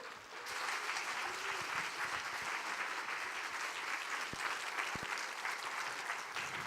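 A church congregation at an autumn revival service applauds a guest pastor, a dense, even wash of clapping that starts abruptly and holds steady and fairly loud throughout, with a few sharper claps standing out.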